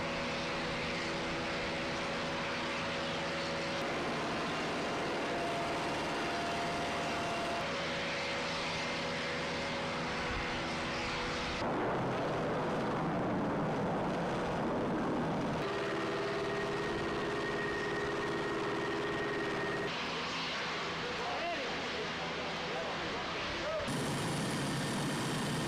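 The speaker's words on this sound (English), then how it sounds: "A B-52H Stratofortress took off on March" Engines of a Boeing B-52H Stratofortress bomber, a continuous broad roar with steady droning tones that shifts in character partway through, sustained throughout with a speaking voice present at times.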